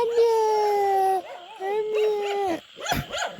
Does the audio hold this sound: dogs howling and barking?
yes